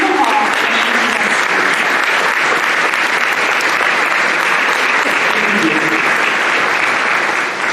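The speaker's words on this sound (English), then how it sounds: "So please join me in welcoming to the stage Uncle Paul and Auntie" An audience at an African Children's Choir concert applauds to welcome the choir conductor and teacher to the stage; the clapping is loud, dense and continuous throughout, with no break.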